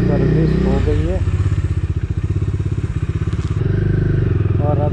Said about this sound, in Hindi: फाइनली सर्विस करा के आ चुके हैं और बाइक बहुत स्मूथ चल रही है।